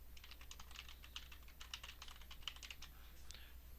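Steady fast keystrokes on a computer keyboard while entering text into Microsoft Word, quiet and close, with an irregular clicking rhythm for about four seconds and no talking.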